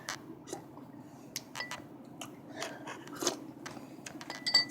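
A metal spoon clinks and taps against a glass while stirring chocolate milk, giving a string of light, irregular chinks close by in a quiet room.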